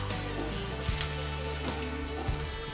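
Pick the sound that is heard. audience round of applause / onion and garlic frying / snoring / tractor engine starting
onion and garlic frying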